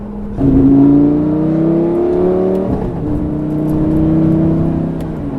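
Lamborghini Gallardo engine in sport mode, revving loudly and close, with rising harmonic pitch sweeps broken by a sharp gear shift midway before the pitch climbs again.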